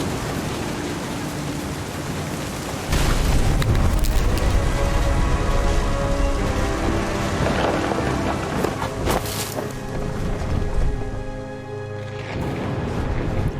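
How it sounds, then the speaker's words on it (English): Storm in the video game What Remains of Edith Finch, steady heavy rain and wind washing over everything, with a louder rumbling surge of thunder partway through. "thunder sounded much too close and full of angry power"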